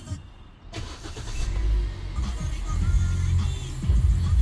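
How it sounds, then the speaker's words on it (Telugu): A 2023 Hyundai i20 Sports 1.2 petrol car cranks and starts with a single self-start, the engine catching and settling into a low, steady idle close by. "ఇంజన్ స్టార్ట్ చేస్తున్నాను"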